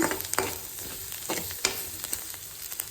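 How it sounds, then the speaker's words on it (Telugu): Onion and egg rice base frying with added spice powders, stirred in the pan: a soft steady sizzle broken by several sharp scraping clicks of the spoon, close and moderately quiet, with no voices. "అన్నీ వేసుకొని మళ్ళీ ఒకసారి కలుపుకొని 1 నిమిషం పాటు వేయించాలన్నమాట."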